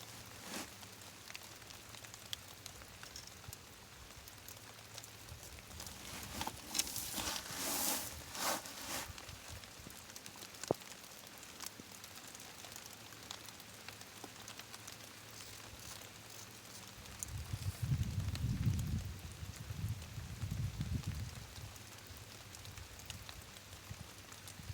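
Heavy rain falling outdoors, a constant close patter across the whole stretch, with a louder rustling burst in the middle and a low rumbling gust near the end.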